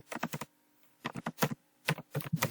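Bursts of rapid clicking keystrokes on a computer keyboard, close and crisp, in three separate flurries with short quiet pauses between them.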